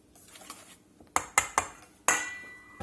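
Ranch dressing ingredients including salt, white wine vinegar and sugar being mixed in a bowl, heard as a few sharp utensil clinks and scrapes against the dish, close and fairly quiet, with no talking.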